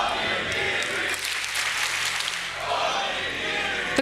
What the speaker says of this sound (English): The crowd cheering on Onigiri